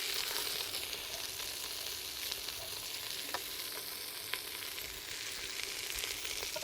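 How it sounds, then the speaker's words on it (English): Fennel and onion fry in olive oil with a soft, even sizzle and scattered light crackles, fairly faint and steady throughout. "So, fennel, onion, olive oil. It already sounds good."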